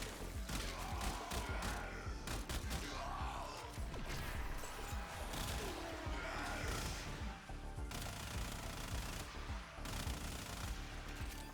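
Rapid bursts of gunfire and blast-effect explosions from the Warframe video game in a mission fight, dense and continuous with thuds and crashes, fairly faint in the mix.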